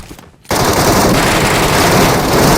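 Sustained automatic gunfire from the video game Metro bursts in after a brief quiet moment and continues as a loud, dense, rapid rattle to the end.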